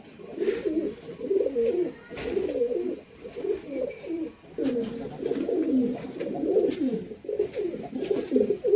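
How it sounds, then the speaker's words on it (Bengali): Repeated low cooing from a female Kaldam pigeon, close and fairly loud, in continuous rolling phrases with short pauses, and faint chirps from other birds in the background. "এটা একটা কালদম মাদি কবুতর।"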